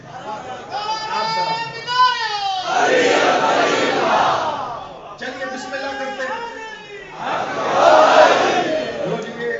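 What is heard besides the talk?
crowd chanting religious slogans (naray)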